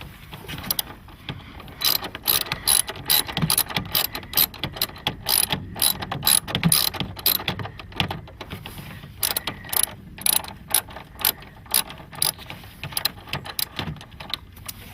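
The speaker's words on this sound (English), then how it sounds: "you can hold the extension bar while it clicks back" A socket ratchet on an extension bar clicks in rapid bursts while tightening the battery terminal on a 2012 Kia Soul, with close, sharp, repeated pawl clicks and short pauses between strokes.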